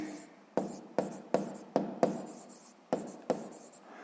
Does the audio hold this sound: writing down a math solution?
yes